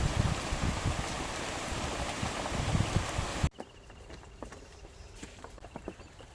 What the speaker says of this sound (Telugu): వర్షం అయితే ఫుల్గా పడుతుంది.